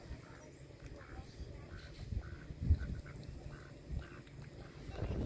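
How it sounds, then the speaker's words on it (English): Ducks near a pond with turtles quack faintly at a distance, brief scattered calls beneath voices of people talking outdoors. "There's also some ducks."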